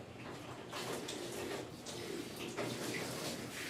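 Running water flows steadily from a hose or tap, rinsing soap out of a corgi's coat, with a soft continuous splashing hiss and occasional louder gushes.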